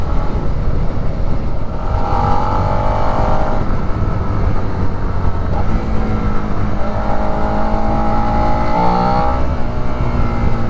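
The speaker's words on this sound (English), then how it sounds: "Very intake focused sound coming out of this thing." A Suzuki SV650 motorcycle accelerates on the road, its loud intake-heavy engine note rising and falling through several throttle pulls over constant wind and road rumble, close to the rider.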